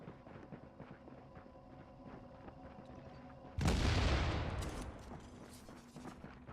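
MG5 machine gun in a shooter game: a sudden loud burst of rapid automatic fire that carries on for about a second and a half, then fades back into quieter game sounds.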